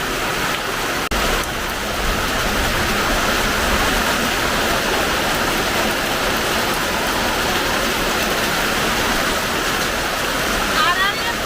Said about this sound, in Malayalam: നല്ല മഴ തന്നെയാണ്